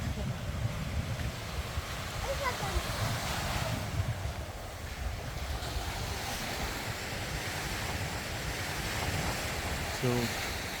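Surf washing onto Haad Beach on Koh Phangan, Thailand, near the sandbar out to Koh Ma island, a steady broadband wash of waves mixed with wind buffeting the microphone, with no talk.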